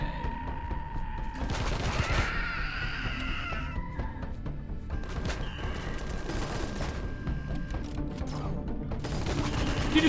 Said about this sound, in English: Did you just shoot at me through the wall?